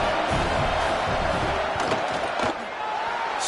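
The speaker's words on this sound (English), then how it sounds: "This crowd trying to do its part to get inside the kicker's head." A college football stadium crowd roars during a fourth-down field goal attempt, a dense, steady wash of cheering and noise that holds loud throughout, dipping slightly near the end.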